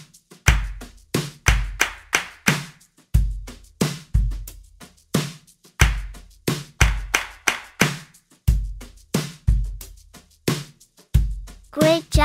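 Hands clap short rhythmic patterns in a kids' rhythm-copying game, crisp close claps in quick groups separated by brief pauses, repeating throughout.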